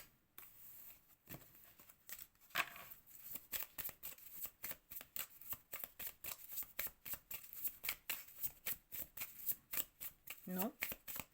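Tarot cards are shuffled by hand in quick, rhythmic bursts of crisp flicks and riffles, close and repeated steadily through the whole stretch.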